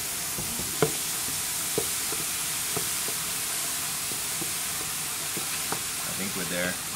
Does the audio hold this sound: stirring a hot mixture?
yes